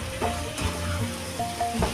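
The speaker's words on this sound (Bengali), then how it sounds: "এবার সবজির সাথে মশলাটা ভালোভাবে কষিয়ে নেব।" Vegetables and spice paste for a paneer dish sizzle and fry in a pan as they are stirred, giving a steady close hiss with occasional scraping and no voices.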